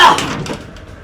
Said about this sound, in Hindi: ये नहीं खुल रहा दरवाजा।